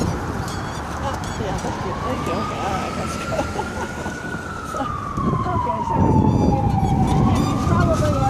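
Emergency vehicle siren going by on a city street, its wailing tone rising and falling in long sweeps as it passes, fairly loud against traffic rumble with people talking nearby.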